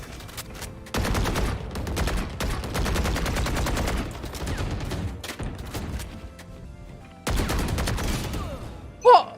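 Rapid bursts of automatic gunfire in the Free Fire video game, loud and close, with long sustained volleys, short pauses between them and a final brief sharp sound at the end.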